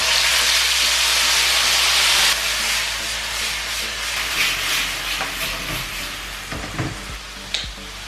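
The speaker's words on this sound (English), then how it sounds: "So the chicken's been frying for a few minutes" Chicken sizzles in hot olive oil in a wok, a loud, steady frying hiss close by, easing slightly after a few seconds, with faint clicks and scrapes of stirring toward the end.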